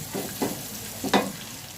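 Garlic frying in a pan for stir-fried surf clams with chili paste: a steady close sizzle broken by a few louder scraping stirs of a spatula, no talk.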